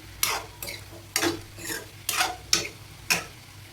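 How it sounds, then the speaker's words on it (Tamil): Brinjal (eggplant) frying in oil, with about six regular scraping bursts roughly every half second over a soft background sizzle. The sound is close and moderately loud, with no voices. "கத்திரிக்காய் நல்லா கொஞ்சம் நேரம் எண்ணெயிலே வணங்கட்டும்"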